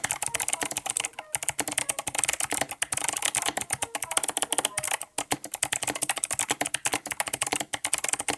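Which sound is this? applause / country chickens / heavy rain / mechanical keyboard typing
mechanical keyboard typing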